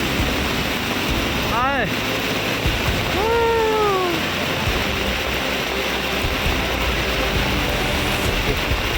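Floodwater pouring steadily into a house during a heavy storm in Laos, a continuous broadband rushing roar throughout, with a brief whistle-like tonal sweep passing over it near the middle.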